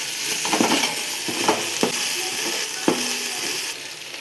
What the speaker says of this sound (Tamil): இஞ்சி பூண்டு பச்சை வடை போகிற அளவுக்கு வதக்கிக்கோங்க